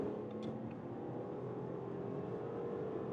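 A 2025 Audi A6 Avant accelerates smoothly from 70 to 120, heard from inside the cabin as a steady, even engine drone blended with road and wind noise, with no voices.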